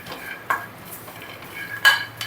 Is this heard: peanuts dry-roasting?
yes